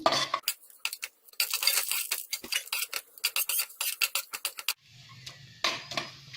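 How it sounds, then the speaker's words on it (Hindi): Cinnamon and bay leaf with cloves and black cardamom are stirred and roasted in a pan over medium gas, a quick run of sharp scraping clinks from a metal spoon, then a brief soft sizzle at the end. "इसको मिक्स करेंगे और 1-2 मिनट तक इसको भूनेंगे।"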